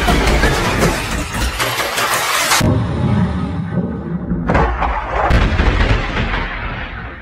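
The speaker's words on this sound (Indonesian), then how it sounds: "menyebabkan heli penyelamat jatuh dan meledak" A helicopter crashes and explodes: a loud, roaring crash with heavy explosive blasts and rumbling, a sudden drop-off midway, then another violent burst that fades into a lingering roar.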